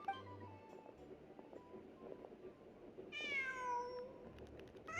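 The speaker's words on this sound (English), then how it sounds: "Huh. Just a cat." A cat in a video game gives a single clear meow about a second long, rising over soft ambient game sound and a low background hum.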